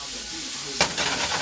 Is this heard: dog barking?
no